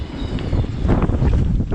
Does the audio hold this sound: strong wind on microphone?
yes